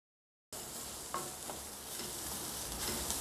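An onion fries in a pan for chole, a steady close sizzle that starts abruptly after a moment of silence, with a few soft stirring scrapes, fairly quiet and with no talk.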